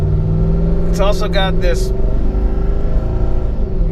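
A Jeep Wrangler JK with an LS7 V8 and five-speed manual runs close by with a steady, slightly wavering idle rumble while someone talks briefly over it.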